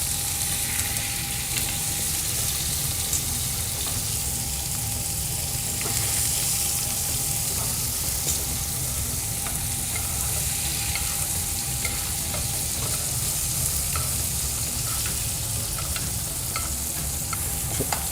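Salmon sears in butter in a hot pan, giving a continuous loud sizzle and crackle with faint scattered pops, steady throughout and with no talking.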